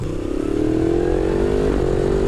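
A Yamaha MT-10 motorcycle accelerating hard with a rising engine note, broken by a quick quickshifter gear change before the pitch climbs again, steady and loud.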